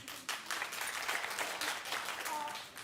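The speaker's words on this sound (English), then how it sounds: "clap if you're like her and you watched last night" A studio audience on a daytime talk show claps briefly, a moderate burst of applause that swells and fades over a few seconds with some voices mixed in.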